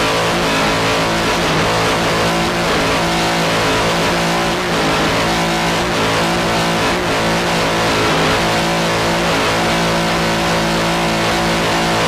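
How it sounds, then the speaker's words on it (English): Offshore racing powerboat engines from a 1996 Chesapeake Bay race, a loud, continuous roar with steady harmonic drone as the throttle is worked, close and unbroken for the whole stretch. "Nice throttling there."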